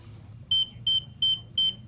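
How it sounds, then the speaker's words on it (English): Pool alarm going off after a child jumps into the pool, four evenly spaced high electronic beeps over a low background hum, with no talk. "Now we tested the pool alarm with one of the youngsters jumping in."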